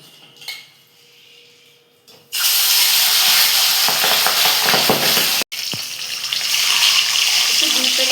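Pabda fish frying in hot oil in a kadai, a loud steady sizzle and crackle that starts abruptly after quiet kitchen sounds, drops out for an instant, then carries on.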